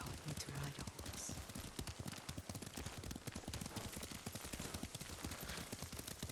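Rapid, rhythmic hoofbeats of a ridden horse in the Ghost of Tsushima video game, a steady galloping clatter that runs the whole way through at moderate level, with faint background texture.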